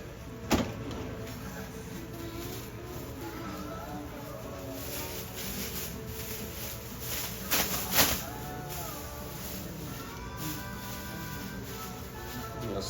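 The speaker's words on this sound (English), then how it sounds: "just pull the vacuum, kind of just pulls it tight to the model there" A vacuum pump draws a plastic bag tight over a silicone sleeve for a bionic hand model, giving a steady mechanical hum with faint crinkles and a few sharp knocks, including one near the start and a pair later on.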